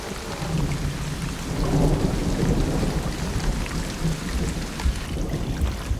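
Heavy monsoon rain pours down steadily on a rainforest, a dense close roar with low rumbles of thunder rolling underneath.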